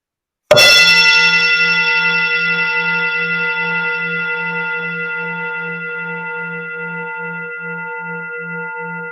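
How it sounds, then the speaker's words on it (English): A single Tibetan bell is struck once and rings out with a clear, sustained tone, shimmering and pulsing as it slowly fades over several seconds. "Just place your attention on this Tibetan bell. I'm going to ring it."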